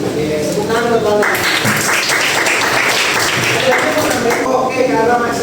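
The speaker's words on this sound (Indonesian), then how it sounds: "tepuk tangan buat Bapak." Classroom full of students applauding, a steady wash of many hands clapping heard in the room, with speech around it at the start and end.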